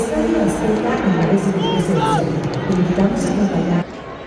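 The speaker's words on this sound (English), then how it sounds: "The crowd is obviously not happy." An unhappy stadium crowd at a Club América vs Pachuca Liga MX match at the Azteca, a loud mass of murmuring and shouting voices with occasional whistles before the noise drops off near the end.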